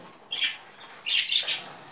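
Pet budgerigars in a home aviary, one of them sick with trichomoniasis, give a few short, bright chirps in two small bursts, close by and moderately loud, with no talking.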